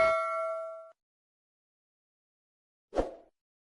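A bright notification bell chime rings out and decays over about a second, followed after a short silence by a soft single plop or pop.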